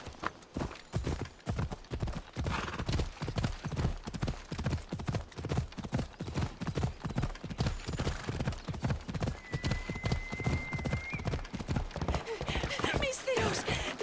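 In Assassin's Creed Odyssey a horse gallops hard, with rapid, loud, evenly driving hoofbeats up close throughout and a neigh near the end.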